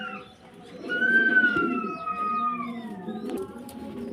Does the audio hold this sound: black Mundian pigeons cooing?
yes